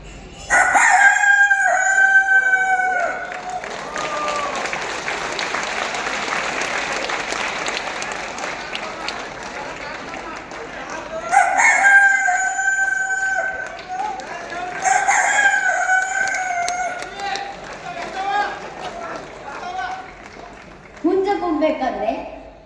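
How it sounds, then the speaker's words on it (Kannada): A rooster crows loudly and repeatedly in bursts, with long stretches of busy background clamor between calls and a final crow near the end. "ಹುಂಜ ಬೇರೆ ಯಾರೂ ಅಲ್ಲ, ಕೋಳಿಯ ಗಂಡ."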